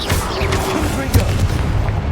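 Confringo fire-blast spells burst in Hogwarts Legacy, a loud continuous rumble of booms with a sharper impact near the middle, dense and close throughout.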